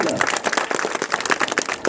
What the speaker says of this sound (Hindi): जोरदार ताली बजा के स्वागत करेगा।